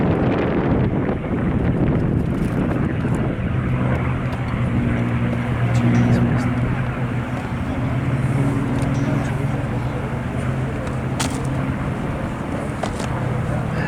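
A P-51 Mustang, a Second World War escort fighter, passes overhead as one of three aircraft on a final pass, its steady engine drone loud and sustained, with wind buffeting the microphone.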